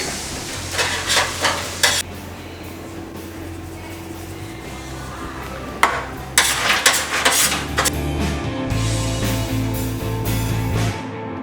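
Battered fish and chips frying in hot oil in a deep fryer: a steady, loud sizzle and crackle with scattered clanks from basket or utensils, and no voices.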